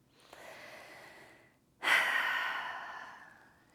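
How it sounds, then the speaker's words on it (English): A single deep breath for centering during a calm guided session: a soft inhale, a brief pause, then a longer, louder, airy exhale that fades out slowly, heard alone and close. "Let's take a deep breath to center."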